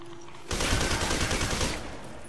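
A shotgun fires in the video game F.E.A.R. 2, a loud sudden blast followed by a dense, rattling burst of gunfire that lasts over a second before fading into background noise.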